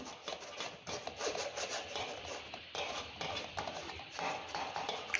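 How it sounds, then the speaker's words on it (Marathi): Boiled potatoes are pressed through a metal grater with a metal tumbler, giving repeated rasping, rubbing scrapes in a steady back-and-forth rhythm at close range. "आपल्याला हे बटाटेही या किसणीने चाळून घ्यायचे आहे तांब्याच्या साह्याने आपण हे किसून घेऊया"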